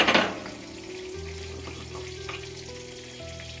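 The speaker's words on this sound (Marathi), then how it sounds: "ह्याच्यामध्ये मी थोडीशी हिंग टाकते" Asafoetida (hing) tipped into hot oil in a pan over a low gas flame, giving a sharp burst of sizzling that settles into a steady, close frying hiss.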